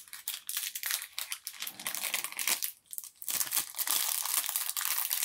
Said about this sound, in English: the sound of cellophane breaking when you unwrapped a game back in the day